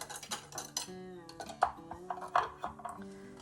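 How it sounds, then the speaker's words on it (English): The blade of a food chopper knocks and clinks into place among kitchen dishes, giving a series of close, light clatters and taps with no one talking. "I need to put the blade back in there first."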